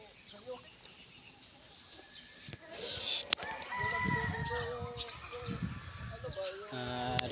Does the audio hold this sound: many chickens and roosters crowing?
yes